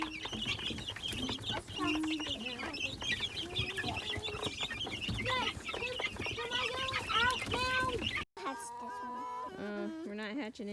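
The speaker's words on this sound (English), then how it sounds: "That black one right there, that's my oddball surprise chick." Meat-bird chicks and grown chickens cluck and cheep continuously close by, a busy overlapping chorus of short calls, with faint voices talking in the background.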